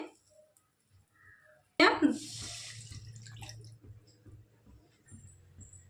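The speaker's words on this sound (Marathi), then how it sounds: "2 कप पाणी ओतलंय." About two cups of water poured into a hot buttered kadhai on a gas stove, a sudden splashing gush that settles into gentle bubbling and dripping.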